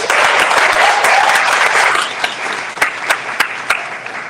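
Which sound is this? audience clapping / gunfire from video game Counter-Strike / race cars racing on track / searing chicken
audience clapping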